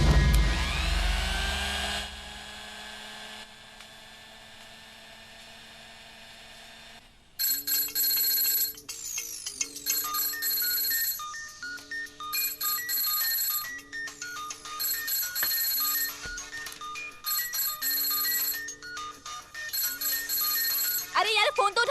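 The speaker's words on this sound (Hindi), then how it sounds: "अरे यार फोन तो उठा।" A telephone rings in a dramatic indoor scene, with an electronic ringtone repeating in regular bursts of a bright warbling tone, clear and prominent, after a stretch of speech and background sound.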